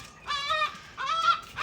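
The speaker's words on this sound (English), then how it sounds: "Can you hear all the birds? There's loads of seagulls this morning." Several seagulls call in two bursts of loud, harmonic squawks on a cold morning, with a short gap between them and no talk.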